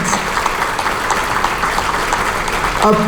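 Audience in a banquet hall at a middle managers' leadership conference applauding, a loud, continuous dense clapping that swells slightly at the end.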